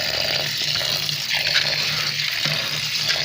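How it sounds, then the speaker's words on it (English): Millet is washed in water, a steady splashing and sloshing that runs continuously at close range with no talk. "Washing the millet now."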